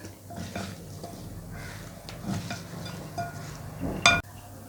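Pickle spices being mixed with salt in a bowl, soft scraping and stirring with light clinks of a spoon against the dish, ending in a sharper clink, quiet and close.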